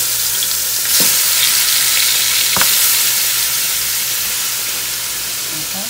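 Seasoned oxtail meat fries in a hot pot with a steady loud sizzle and hiss throughout, broken by two brief clatters or stirs near the start, with no voices.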